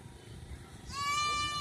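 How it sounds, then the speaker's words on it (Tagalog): A single goat bleats on a farm, a short wavering cry rising out of a low background rumble and murmur, moderately near. "Tapos maraming alagang mga kambing."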